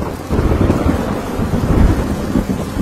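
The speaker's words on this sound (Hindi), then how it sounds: "फिर जोर से बारिश होने लगी।" Heavy rain pours down in a stormy downpour over farmland, a loud, dense, continuous roar with deep rumbling thunder underneath, no pauses and no voices.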